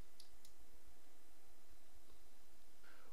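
A computer mouse gives two quick, faint clicks near the start, then only a quiet hiss remains.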